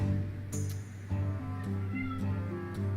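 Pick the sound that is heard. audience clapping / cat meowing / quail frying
cat meowing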